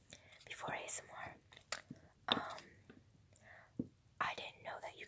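Honeycomb being eaten up close, with soft sticky chewing and wet mouth sounds in quiet bursts, some sharper crunchy bites and faint whispering between them.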